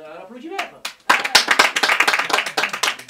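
Audience at a French stand-up comedy show claps and cheers after the comedian calls out to Tunisians in the crowd, a dense burst of applause that starts abruptly and runs steadily, following a brief stretch of talk.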